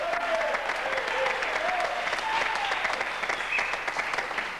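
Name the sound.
studio audience applause on a TV game show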